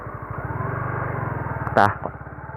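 A clutch motorcycle engine putters in a low, rapid, uneven knock, then sputters and cuts out with a brief clunk before going quiet.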